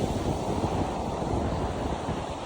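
Ocean surf rolls in steadily at Myrtle Beach along 38th Ave N, a continuous loud wash of breaking waves mixed with gusty wind buffeting the microphone, with no voices.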